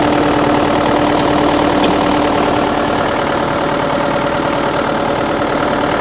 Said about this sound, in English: There's the motor right there. Everything's nice and clean. There's a new turbo. Sounds really nice.